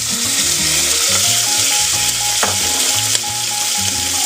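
Meat goes back into a soup pot and sizzles loudly and steadily, with clinks and scraping stirring noises close by.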